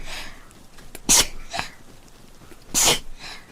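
Two sharp sneezes burst out loudly, one about a second in and another near the end, with softer breathy sniffs and snorts between them.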